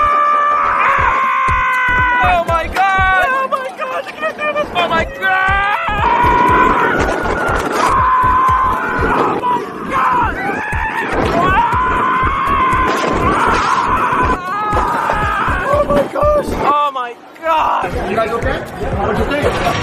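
Loud, continuous screaming and excited shouting from riders on a scary amusement park ride, several voices overlapping with rhythmic mechanical rattling beneath, sustained almost without pause for twenty seconds.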